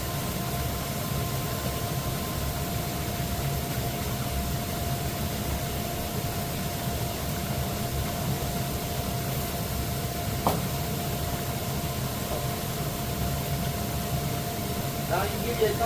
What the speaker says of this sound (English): This is running on a 1 horsepower jacuzzi motor. It is an absolute beast.